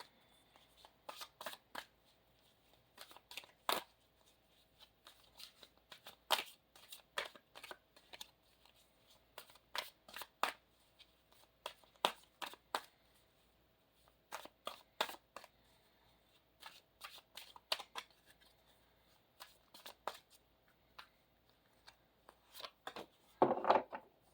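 Moon Oracle cards are shuffled by hand in repeated bursts of crisp riffling and slapping, pausing briefly between rounds, quiet and close with no talk.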